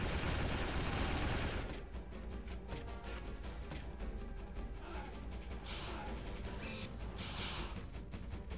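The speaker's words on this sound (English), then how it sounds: "they're grenades" Grenade explosions in the video game Jurassic: The Hunted, a rapid barrage of blasts and crackling bursts following a loud opening roar, fairly faint overall.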